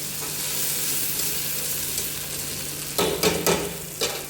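Tomatoes and onion frying in oil in a pan for dal khichdi, a constant close sizzle that gives way near the end to a few sharp stirring clatters against the pan.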